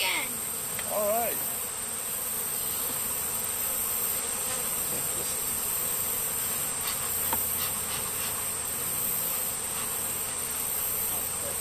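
A colony of bees buzzes steadily around a hive during a brood-frame transfer, a dense, continuous close drone filling the scene with occasional louder passes near the microphone and no talk.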